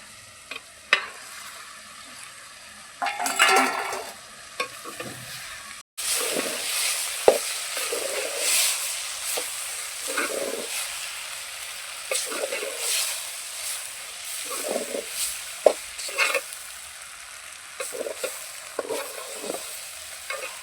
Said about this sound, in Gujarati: હવે આમાં નાખી દઈશું પાસ્તા